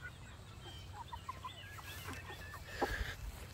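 Freedom Ranger chickens cluck and chirp faintly during morning feeding on a pastured poultry homestead, scattered soft calls over a low background rumble with one louder squawk near the end.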